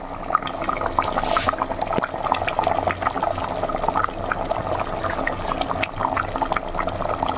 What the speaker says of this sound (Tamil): ஒரு பத்து நிமிஷம் அளவுக்கு குழம்ப நல்லா கொதிக்க விடலாம்